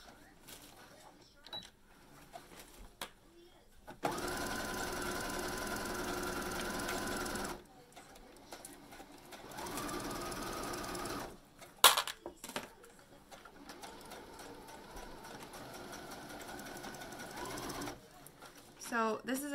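Sewing machine stitching a half-inch hem on shorts about three-eighths of an inch from the edge, running in two steady whirring bursts of a few seconds each, with someone talking between and around them.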